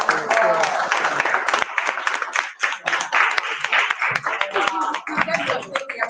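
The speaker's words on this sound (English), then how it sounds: "Please let us take your applause to the top of" Audience applause at a book launch event, dense and sustained clapping throughout with voices and cheering mixed in.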